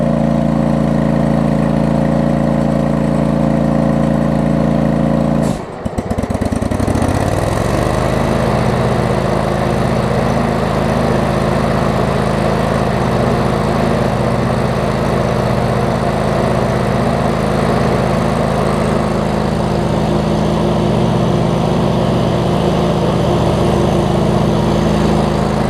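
A John Deere LX279 lawn tractor engine idles loud and steady, cuts out with a brief sputter, then catches after choke and settles into a constant close running drone.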